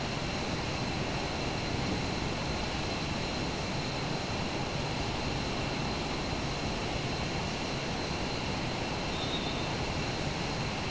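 Steady, dense jet engine roar from an F-22A Raptor on approach in Microsoft Flight Simulator, a constant wide rumble with an even loudness throughout and no pauses.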